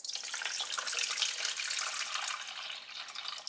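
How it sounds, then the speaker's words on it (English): Steady stream of water pouring into a mixing bowl for sourdough bread dough, a continuous broadband splashing rush that holds close and even for the whole stretch, easing slightly near the end. "let's get 325 grams of water in here."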